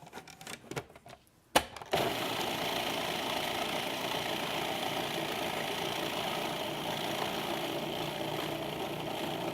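A blender starts with a few brief pulses and then runs continuously, a steady mechanical whir as it purees a mixture, close and fairly loud with no voices.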